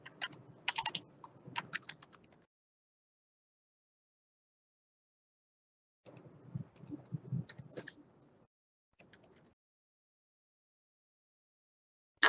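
Login details are typed on a computer keyboard in quick, close bursts of key clicks, with long silent pauses between the bursts.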